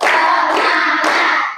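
A classroom of students claps together in a counted rhythmic pattern, producing a loud, close burst of dense hand claps lasting just over a second.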